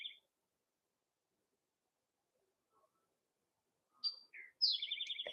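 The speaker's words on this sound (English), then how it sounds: "Can you guys hear the birds?" Birds outdoors chirp faintly at the start, then a louder burst of quick, high tweets and trills closes the stretch after a long near-silent gap.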